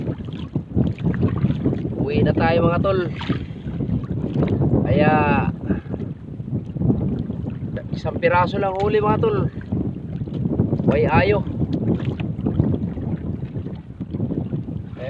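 Strong wind roars steadily across a small fishing boat at sea, a constant loud rush of wind noise throughout while someone talks over it in short bursts.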